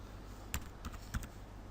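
A few sharp computer keyboard key presses and clicks, about three spaced taps, close and fairly quiet, made while drafting a detail drawing of a coupling link in CAD software.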